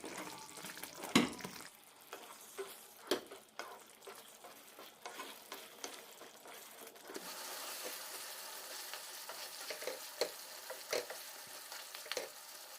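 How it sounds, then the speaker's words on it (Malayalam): Soya chunk tikka masala is sautéed in a pan until the oil separates. A soft, steady sizzle runs under scattered spoon scrapes and clacks, fairly quiet and close, with no speech. "എണ്ണ തെളിയുന്നത് വരെ വഴറ്റാം"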